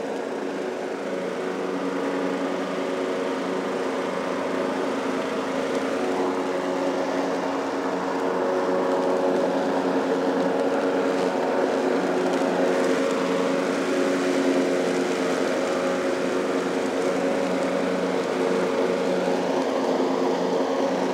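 A lawn mower cuts through thick grass on a residential lawn, a steady loud engine drone with a constant whirring blade hum that holds for about twenty seconds without pause or talk.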